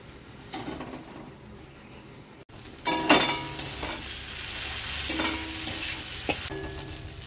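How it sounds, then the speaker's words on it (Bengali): Spice masala frying in oil in a pan while being stirred, a steady close sizzle with scraping stirring strokes that grows louder after a short pause. "মশলাটাকে ভালো মতো কষিয়ে নিই।"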